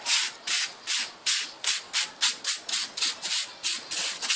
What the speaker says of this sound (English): More sandpaper now. It's very light stroke. Clean up the blade.